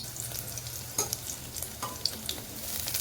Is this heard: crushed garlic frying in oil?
yes